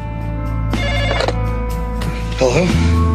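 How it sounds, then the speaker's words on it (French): Telephone ringing at night, a loud electronic ring in repeated bursts close by, ending with a pickup-like clunk and a change in the background hum. "Mon téléphone a sonné vers 1 ou 2 heures du matin."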